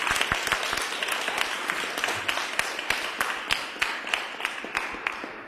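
A church congregation applauds during a St Andrew's morning worship service with a nativity skit, a steady wash of clapping with sharper individual claps standing out, moderately close and continuous throughout.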